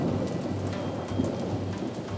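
Steady heavy rain pours down alone with no voices, a dense even hiss of drops on surfaces plus a low rumble underneath, close and constant throughout.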